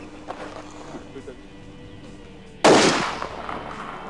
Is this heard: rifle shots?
yes